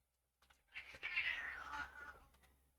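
Two playful house cats yowl and caterwaul indoors, a drawn-out, wavering cry rising after a short silence, close and fairly loud, trailing off with small rustles.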